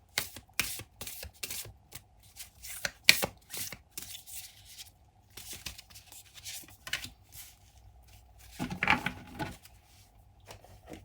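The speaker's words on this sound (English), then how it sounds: "let me shuffle the oracle cards again" Oracle cards are shuffled by hand in a quiet room, a string of quick crisp riffles and flicks in irregular bursts with brief gaps and one longer flurry near the end, close and clear with no talking.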